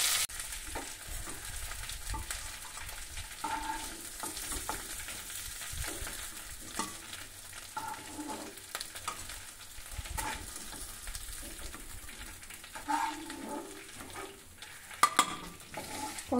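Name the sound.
hilsa fish frying in a wok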